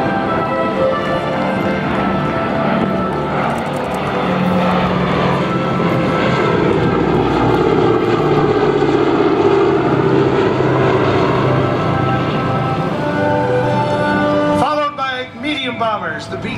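A B-17 bomber flies past at an airshow, its propeller engines droning loudly and steadily throughout while an announcer talks over the PA.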